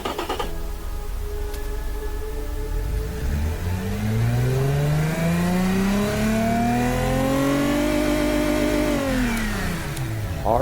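A 3.3-litre, 179-horsepower engine with two reverse-flow mufflers revs in an Automation/BeamNG.drive game car, a steady muffled drone whose pitch climbs and holds high, then falls away near the end.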